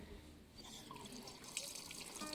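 Hot water trickles and drips from a homemade desi water heater, a faint, steady splashing with scattered drip ticks in a quiet outdoor setting.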